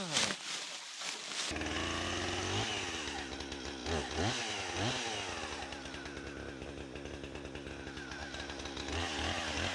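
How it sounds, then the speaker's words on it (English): A chainsaw starts up and runs steadily at close range, its engine buzzing loud with revving rises and dips throughout. "Why not run a chainsaw?"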